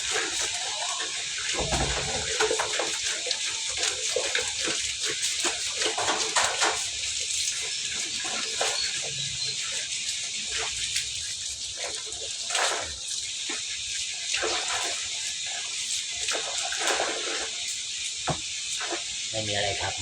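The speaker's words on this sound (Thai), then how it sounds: "คอนเทนต์คือการล้างถ้วยล้างชาม" Dishes and bowls being washed by hand in a sink under running water: a continuous hiss of flowing water with clinks and splashes, and a person talking now and then over it.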